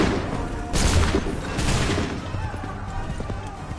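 Musket volley firing in the Assassin's Creed 3 video game: broad bursts of gunfire crackle in waves, the loudest around the one-second mark, with a second volley following over a dense battlefield din.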